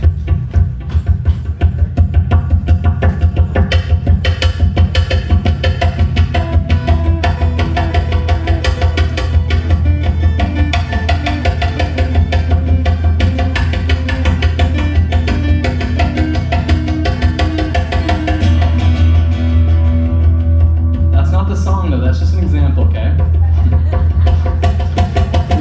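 Electric guitar with echo, picked at 1.5 times the echo speed so the repeats interlock into a dense, rhythmic cascading pattern, loud and continuous over a steady low hum, thinning out near the end.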